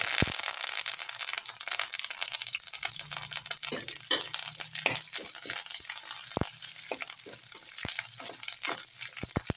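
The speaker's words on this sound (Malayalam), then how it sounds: "പച്ചപ്പ് പോവാതെ വറുത്ത് കോരി എടുക്കണമെന്ന് മാത്രം" Curry leaves fry in hot oil, giving a steady crackling sizzle with sharp pops scattered throughout, close and fairly loud, with no voices.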